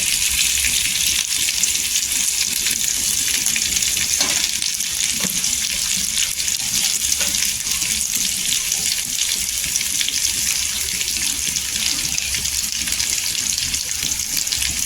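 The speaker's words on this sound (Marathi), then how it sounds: "छान असं क्रिस्मी असं भाजून घे असं तेलावर" Bitter gourd frying in oil on a griddle over low heat, a loud, even, continuous sizzle with a few faint clicks, steady for the whole stretch without talking.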